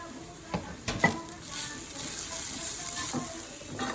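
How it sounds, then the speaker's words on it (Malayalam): Grated coconut sautés in a pan for tomato chutney: a few sharp spatula scrapes and clinks early on, then a soft, steady sizzle running beneath, fairly quiet and with no talk. "തേങ്ങ ഇട്ട് അതിട്ടൊന്ന് വഴറ്റി ആവശ്യത്തിനുള്ള ഉപ്പ്"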